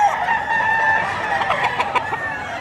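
Roosters crow and hens cluck steadily throughout at a busy livestock auction market in Padre Garcia, Batangas, with several birds calling close by and overlapping in a dense, continuous chorus.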